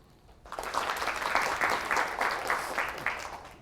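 An audience at a talk claps for a speaker taking the stage, a burst of applause that swells suddenly after a quiet moment, holds steady and loud with distinct clap accents, then begins to taper.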